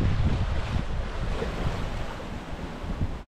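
Wind roars across the microphone as a sailboat cuts through waves on Lake Michigan, a dense, continuous rush of water and gusts up close that stops abruptly at the end.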